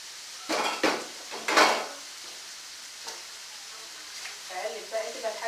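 Two medium onions frying in a pot while a spoon stirs them, several loud scraping and clattering strokes against the pot followed by softer sizzling and light stirring, close by.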